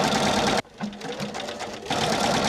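A sewing machine stitches a buttonhole in test fabric, running in loud buzzing bursts that break into a brief quieter stretch of slower stitching before resuming at full speed.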